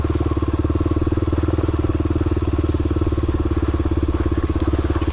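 A motorcycle engine throbs with a steady, loud rumble as the bike rides through puddles, the low pulsing drone constant throughout with a faint wash of splashing noise over it.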